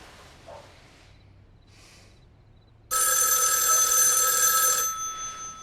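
After a few seconds of near silence with faint rustling, a loud electronic telephone bell rings continuously for about two seconds, then tapers off.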